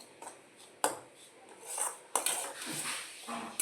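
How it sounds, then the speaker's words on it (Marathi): Semolina being roasted in a pan for mango sheera, a spoon scraping and knocking against the metal in irregular strokes with a soft dry rustle between them, no voices. "या पद्धतीने आपल्याला हा रवा परतून घ्यायचा आहे"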